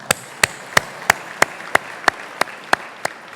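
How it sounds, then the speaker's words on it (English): Clapping at a chamber of commerce annual dinner and awards event: about eleven single, evenly spaced, crisp claps close by over a quiet room background. "Please give yourself a big round of applause."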